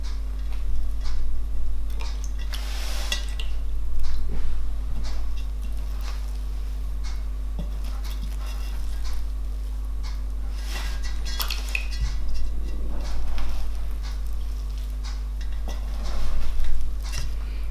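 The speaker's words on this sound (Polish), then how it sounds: "Teraz trzeba je przemieszać i pozostawimy na kolejną godzinę." Rustic bread dough being mixed and kneaded by hand with water on the hands, soft irregular squelching, slapping and pressing sounds with occasional light knocks of a bowl, close up against a steady low hum.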